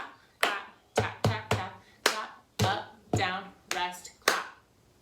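Hand claps and cup taps played in the cup game rhythm, about a dozen crisp, close percussive hits in a quick patterned sequence with short gaps, clean and without talk.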